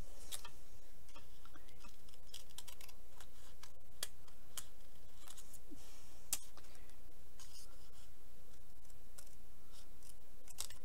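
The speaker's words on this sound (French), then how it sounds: "je vais le couper de suite." Scissors cut a piece of zipper for scrapbooking, making a run of quiet, close, crisp snips and ticks at an uneven rhythm over faint background hiss, with no voices.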